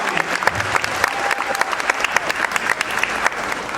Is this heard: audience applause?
yes